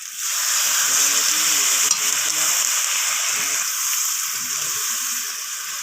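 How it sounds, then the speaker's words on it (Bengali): Rinse water from a spice bowl hits a pan of sizzling jackfruit curry, giving a loud burst of bubbling hiss and frying sizzle that settles into a steady simmer close up. "তো এবার আমি এখানে দিয়ে দেব মশলা বাটি ধোয়া জলটা।"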